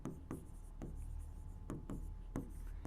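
Chalk or marker scratching across a board in a chemistry classroom, coming in several short strokes with brief pauses between them, fairly close and clear, with no one talking over it.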